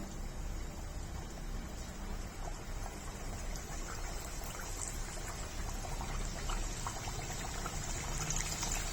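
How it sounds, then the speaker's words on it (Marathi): Puris frying in well-heated oil in a kadhai, a steady dense sizzling hiss that holds at an even level throughout with no talk over it. "कढईमध्ये तेल गरम करून घेतलेलं आहे तेल चांगलं गरम झालेलं आहे आता त्यामध्ये आपण लाटून घेतलेल्या पुऱ्या घालून घेऊया"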